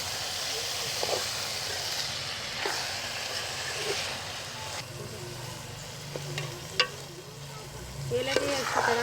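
Mashed brinjal being stirred into masala frying in a pan gives a steady sizzle with intermittent scrapes and soft clicks of the spoon, close and moderately loud.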